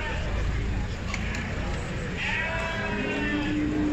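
Sheep and goats, including Shami and Maltese goats, bleat in the pens of a small-livestock market in Dörtyol, with crowd babble and voices talking over a steady background hum.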